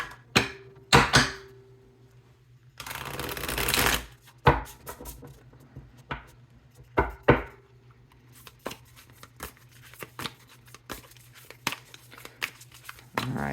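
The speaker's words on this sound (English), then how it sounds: "Do one more good shuffle." Hand shuffling of a tarot deck, with brisk riffling bursts and a sustained flutter of cards, followed by a series of light taps and slaps against a faint background hum.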